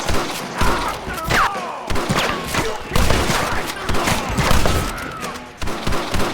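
Gunfire in a shootout with window snipers in Red Dead Redemption, dense overlapping shots and thuds in loud, continuous bursts, with shouted voices mixed into the chaos.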